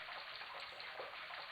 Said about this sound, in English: The faucet creaked, coughed, and spewed out a stream of rusty-colored water.